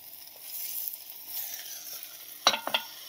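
A tomato goes into hot oil in a pressure cooker while sambar is being made, giving a soft, steady sizzle, then a few sharp metallic clinks and scrapes near the end.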